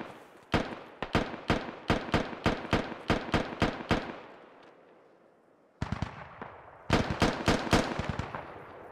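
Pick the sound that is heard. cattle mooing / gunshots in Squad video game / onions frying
gunshots in Squad video game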